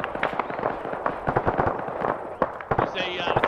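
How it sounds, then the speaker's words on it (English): Distant artillery shells landing in an Arma 3 battle, a rapid scatter of sharp cracks and thumps under overlapping voices talking over game radio. "He's just shelling us"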